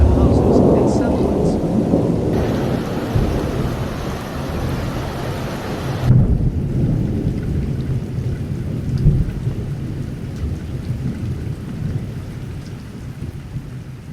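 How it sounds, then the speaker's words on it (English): Floodwater rushes during a heavy rainstorm in KwaZulu-Natal, a loud continuous roar of pouring water and rain that is close and steady throughout, easing slightly toward the end. "Water rushing into houses and settlements."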